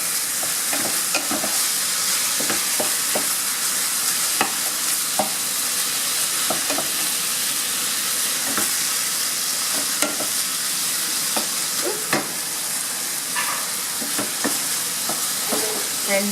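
Seasoned meat and onion frying in a pan for carne guisada, with a constant loud sizzle and intermittent scrapes and clicks of a utensil stirring, close by.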